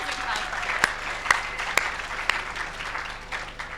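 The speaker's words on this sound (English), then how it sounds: "Round of applause for Affordable Housing" Audience applause at the NYC Big Apps 2015 event, steady clapping throughout with a few sharper individual claps standing out, moderately loud and sustained.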